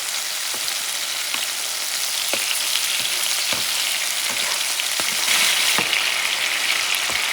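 Fish sautéing in coconut oil in a pan sizzles and crackles steadily and loudly up close, with occasional sharper pops and stirring clicks, and no talk over it.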